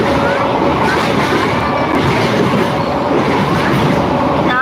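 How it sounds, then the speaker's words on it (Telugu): A train passes close by with a loud, steady rumbling roar and faint rhythmic clatter from the wheels, which stays continuous throughout with a faint voice underneath. "ట్రైన్ సౌండ్ ఎక్కువైపోయింది."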